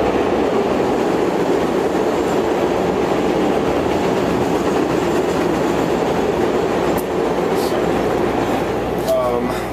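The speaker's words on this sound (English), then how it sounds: "Sorry for the trains." Loud, continuous rumble of a train rolling past nearby, with a steady roar and faint metallic squeals near the end.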